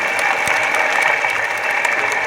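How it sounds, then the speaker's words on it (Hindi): Crowd clapping for visiting ambassadors at a mass wedding of 300 brides at Bageshwar Dham, a dense, steady wash of applause with a few sharper claps, holding level throughout. "दोनों हाथ उठा के ताली तो बजा सकते हो ना इनके लिए"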